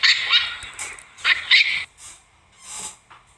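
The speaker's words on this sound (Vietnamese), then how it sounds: "Khỉ đầu chó." Baboon calls in a wild setting, several sharp, high barking cries in quick bursts followed by softer, fading hoots, fairly close and loud with no talk.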